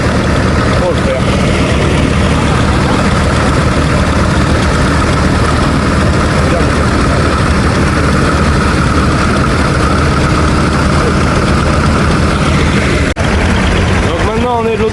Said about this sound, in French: Ils sont deux tracteurs pour le faire.